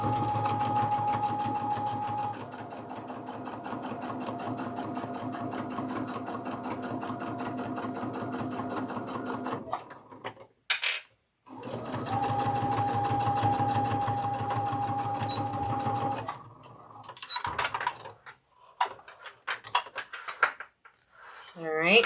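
A sewing machine stitches quilt block pieces with a fast, even mechanical rattle, pausing briefly for a backstitch, then running again before stopping amid handling clatter and a few soft voices.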